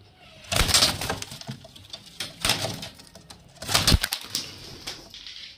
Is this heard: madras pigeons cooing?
yes